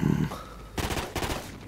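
A minigun in Call of Duty Ghosts fires in two brief, rapid bursts after a short grunt, the shots dense and loud up close.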